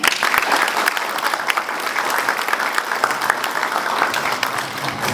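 An event audience gives sustained, even applause, a thick wash of many hands clapping steadily from start to finish with no voices.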